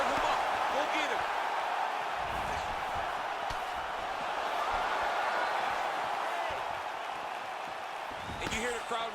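A large UFC arena crowd roars and murmurs continuously in the distance during a heavyweight fight, with sharper bursts of cheering near the start and again at the end.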